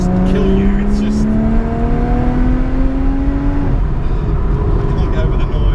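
A sports car engine revs hard nearby, its pitch climbing steadily before dropping off, loud and continuous beneath a voice talking over it.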